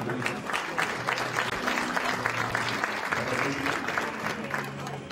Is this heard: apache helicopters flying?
no